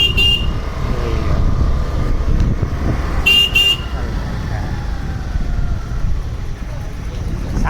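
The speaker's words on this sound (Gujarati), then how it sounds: "ગાડી ચલાવે છે એક્ટિવા." Traffic rumbles steadily around a Honda Activa scooter ride, with engine and road noise throughout and two short horn toots, one near the start and another a few seconds later; talk runs underneath.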